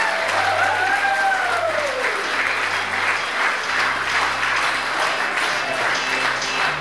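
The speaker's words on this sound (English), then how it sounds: "Round of applause, everybody." Loud, steady applause fills a wedding reception as the newlyweds enter, a dense wash of clapping with a few whistles or cheers rising over it and low music humming beneath.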